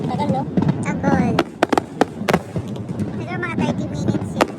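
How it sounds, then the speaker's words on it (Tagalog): A surprise fireworks display in Abu Dhabi, a series of sharp pops and crackling bursts at moderate distance, some with whistling trails, heard alongside people talking. "Bakit may fireworks? Anong meron?"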